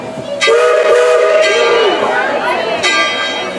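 A Tweetsie Railroad train rolls along as its horn sounds in loud, sustained blasts, with a second blast near the end over steady running noise.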